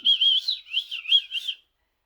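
A human voice imitates a bird, giving a few short, chirpy whistled calls in quick succession, close and clear with nothing else behind them.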